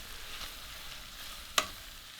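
Onions cooking gently with butter and salt sizzle quietly in a pan while being stirred, a soft steady frying hiss broken by one sharp scrape of the utensil; no voices.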